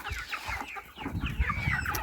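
Hens of a large, calm farmyard breed cluck in short, repeated bursts close by, a busy overlapping chatter with no one speaking.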